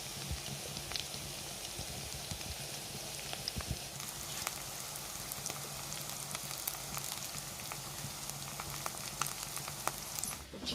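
Steady crackling sizzle of idli pieces frying in hot oil, continuous and close, with scattered sharper pops.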